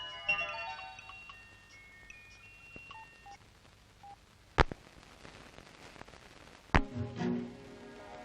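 Telephone keypad dialing tones beep in a quick sequence of faint, pitched blips, followed by a couple of sharp clicks in an otherwise quiet room.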